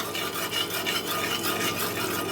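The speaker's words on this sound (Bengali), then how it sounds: "এখন নুন আর হলুদটাকে খুব ভালো করে তেলের থেকে মিশিয়ে নেব" A spoon scrapes and stirs turmeric and salt into oil in a cooking pan, making a steady, close, gritty swishing with no one talking.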